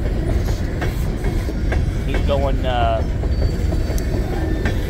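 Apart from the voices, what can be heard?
Union Pacific empty coal train passing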